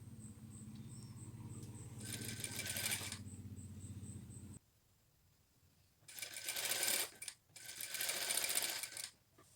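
A sewing machine stitching a Shanghai collar onto a garment, several short whirring bursts of rapid needle stitching separated by pauses, close and fairly quiet.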